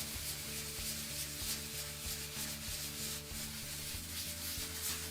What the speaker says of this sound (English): this is how you do a hand rub finish, where you still have texture in the concrete